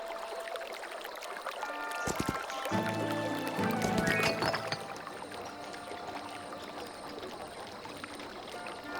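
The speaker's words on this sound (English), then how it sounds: "Oh, it's this one, the fountain." Fountain water in Heroes of Might and Magic: Olden Era, a continuous splashing, trickling ambience under game music, with a brief louder rush of sound partway through before settling back to a steady flow.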